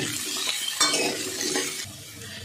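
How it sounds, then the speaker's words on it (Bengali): Kohlrabi frying in oil in a home kitchen pan, with a utensil stirring and scraping through the pieces over a steady close sizzle. "এবার আমি ওলকপিটা ভেজে নেব।"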